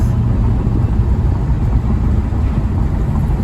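A 2004 Mustang GT restoration car cruises down the road in fifth gear, a steady loud low engine and road rumble heard from inside the cabin with no talk.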